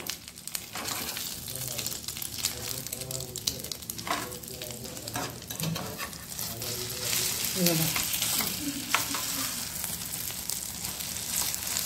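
Masala French toast sizzles and crackles in a pan after being flipped, a steady close frying hiss with some soft stirring or shifting sounds.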